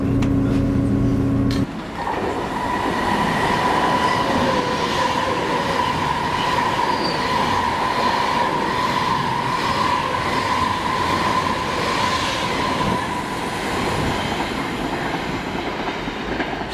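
Train 15877 runs toward Liverpool South Parkway, heard from on board. A sharp burst opens, then a steady rumble of wheels and rails carries on throughout, with a faint whine riding over it.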